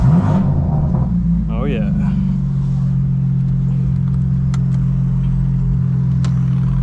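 A BMW M4 CS idles loud and steady with its exhaust valves open, a deep continuous rumble throughout. A brief voice speaks over it near the start.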